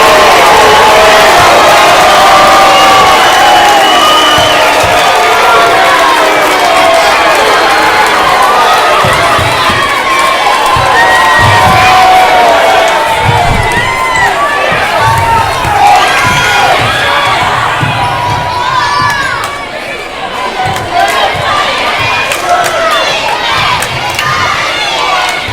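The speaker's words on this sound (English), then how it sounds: "Fans are vociferously booing." Basketball fans roar at a high school girls' game between Velma and Strother, a loud, dense crowd din of shouts and jeers that rises and falls with thumping footfalls on the court, and a commentator's voice comes in under the noise.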